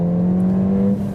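Ford Fiesta ST engine revving hard after a downshift to second gear, a loud steady drone with a strong low tone that holds and climbs slightly before easing near the end, heard from inside the car with no talking.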